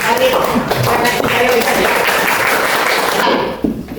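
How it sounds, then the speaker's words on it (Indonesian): A classroom full of people claps together in a burst of applause lasting a few seconds before it stops abruptly. "tepuk tangan yang sudah tahu"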